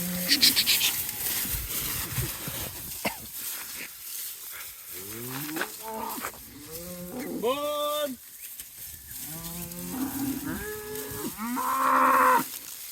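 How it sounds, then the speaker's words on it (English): Hereford heifers being moved on a lease block moo repeatedly in long, loud calls, with several animals overlapping nearby while a voice urges them on. "There we go, there's the lead cow."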